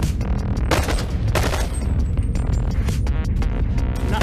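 Rapid bursts of gunfire fill a session of the VR game Bone Lab, a dense, loud fusillade of shots with booming, throbbing low end running throughout, no talking over it.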